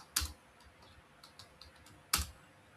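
Computer keyboard keys clack while code is written: two sharp, close strokes about two seconds apart, with softer light taps between them, no voices.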